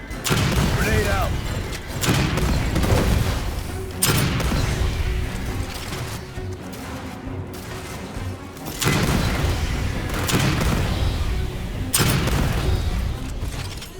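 A grenade blast and bursts of gunfire in Aliens Fireteam Elite 2, repeated heavy booms and sharp impacts at intervals over a continuous low rumble, with brief in-game voices.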